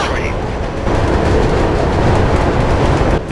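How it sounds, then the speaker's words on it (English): A train passes in Mirror's Edge, a loud steady rumbling roar that swells and holds for several seconds and then drops off near the end, with game sounds layered over it. "Hey, the train."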